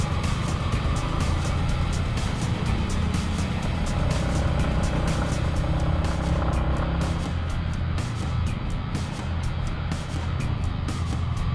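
Motorbikes labour up a steep road through the village of Kampung Emas Cileungsir in Lebak, Banten, producing a continuous loud engine drone with rising revs. Rapid ticking bursts run through it and no voices are heard.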